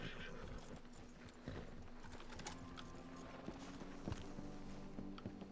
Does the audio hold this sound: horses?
yes